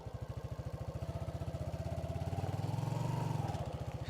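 A motorcycle engine running steadily while riding on roads in Africa, a close, rapid pulsing drone that swells slightly in pitch and loudness toward the end.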